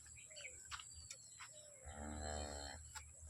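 A large dairy cow moos once on a farm, a long, fairly loud bellow in the back half, with faint bird chirps and quiet clatter before it.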